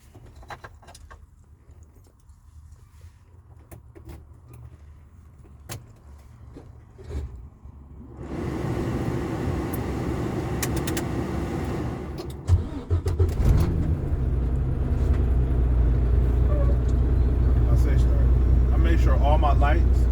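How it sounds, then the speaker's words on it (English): Truck engine cranking and starting up after a quiet cab with clicks and rattles, then settling into a loud, steady close idle. "And then I'm going to start it up."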